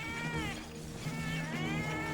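A cat meows repeatedly in drawn-out, wavering cries, loud and close, over a steady low hum of background game sound.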